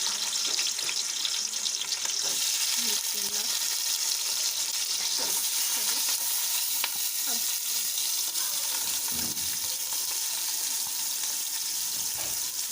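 Chopped onions frying in hot oil for a chicken tikka biryani, giving a steady, close, broadband sizzle that runs unbroken throughout with a few faint clinks and no speech.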